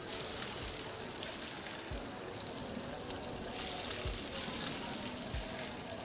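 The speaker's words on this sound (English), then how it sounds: "nothing like hearing the nice sizzle" Bacon sizzles in a pan in a horror breakfast game, a continuous bright crackling hiss broken by several soft low thumps, with no talking over it.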